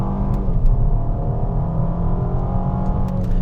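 A 2013 Ford Taurus SHO with 120K miles launches hard, the engine droning loud and steady as it pulls, with a few faint ticks over the strong low roar and no speech.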